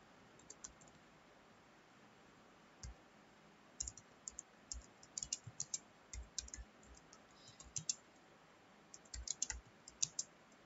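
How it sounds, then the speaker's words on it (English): Keys clack on a computer keyboard as an HTML program is typed into Notepad, quiet irregular bursts of clicks after a silent start, close by against a faint hiss, with no voices. "now we'll type the program"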